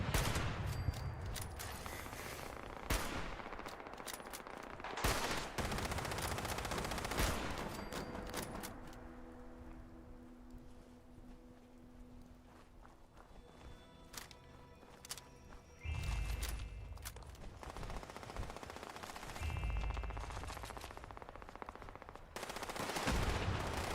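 Gunfire in the video game Fallout: rapid automatic bursts and single shots crack in several clusters, loud at the start and end with quieter stretches and faint tonal game sounds between; no voices.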